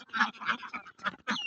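Ducks on a hot-weather duck farm quack in a run of close, loud, rasping calls, several bursts overlapping with short gaps between them.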